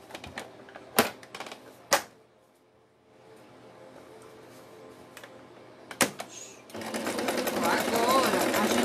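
A sewing machine stitches the base of a small fabric craft piece, starting as a dense, steady mechanical whir near the end after a few sharp clicks and handling knocks, with quiet room noise between.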